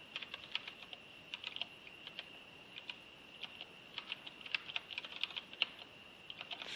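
Steady, close typing on a computer keyboard, with quick irregular key clicks running throughout and no talking.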